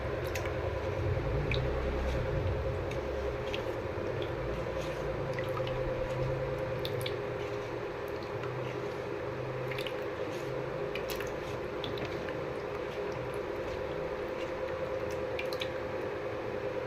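Eggs are mixed by hand in a bowl for podi paniyam batter, giving soft wet squishing and dripping sounds in a loose, irregular rhythm, close but quiet over a low background hum, with no voices.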